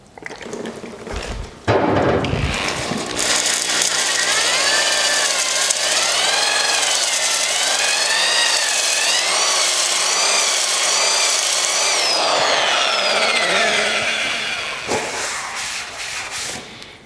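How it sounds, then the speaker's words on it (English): A drill-driven ball hone works inside an engine cylinder with a loud, continuous whirring grind. It follows a brief clatter at the start, holds steady for about thirteen seconds, then winds down. "Get the ball hone in there."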